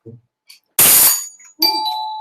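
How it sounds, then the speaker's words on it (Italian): An indoor doorbell rings inside a house, a bright electronic chime in two bursts after a couple of soft taps, loud and close with a ringing tone that lingers at the end. "non l'avete mai visto, un campanello dentro casa"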